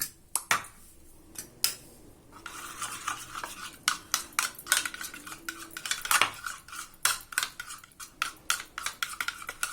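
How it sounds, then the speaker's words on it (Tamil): A spoon scrapes and clinks steadily against a bowl while stirring a gram flour batter with salt, a close, irregular series of taps and rubs with no talking. "இப்போ இது நல்லா கலக்கிக்கோ."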